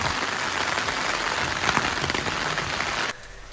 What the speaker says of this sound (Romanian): am prins ploaie din asta teribilă, la ploaie de care ce te rupe în două